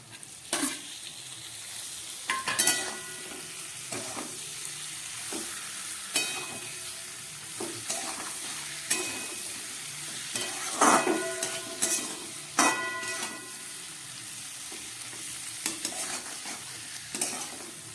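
Fried flat beans (shim) being stirred into a sizzling pan for shim paturi, with a continuous frying hiss broken by repeated spatula scrapes and knocks against the pan at an irregular pace.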